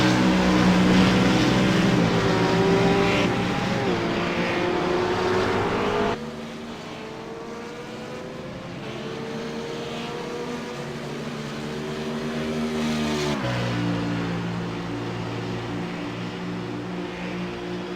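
Race car engines roar through a qualifying lap, loud and sustained, with pitch rising and falling through gearshifts and a sudden drop in level partway as the sound moves off, then builds again.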